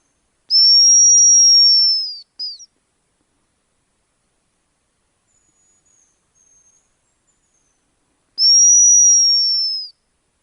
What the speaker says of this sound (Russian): Буду свистеть.